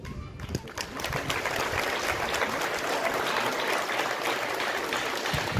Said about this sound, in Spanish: Brindemos los aplausos, pues, a la directora.